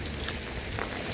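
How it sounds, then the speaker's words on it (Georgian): Rain falls in a steady, dense hiss with no pauses, filling the whole moment evenly at moderate volume. "ჩემთვის მოვიდა ეს წვიმა"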